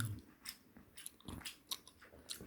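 Close, moist chewing and soft crunching of spicy Korean chicken feet eaten with scorched-rice nurungji soup, a few irregular bites over quiet background.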